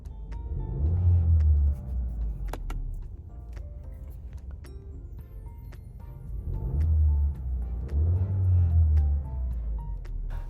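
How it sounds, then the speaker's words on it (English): A 1-liter turbocharged engine in a 2023 VW T-Cross R-Line, 85 kW, idling with a steady low rumble that swells in two louder revs, close and without talk. "That is the sound of 85 kilowatts and 200 newton meters of torque coming from a 1-liter turbocharged engine."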